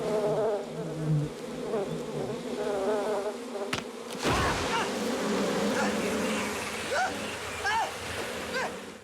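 A dense, steady buzzing of many bees fills the scene, with a faint murmur of voices underneath and a brief knock partway through.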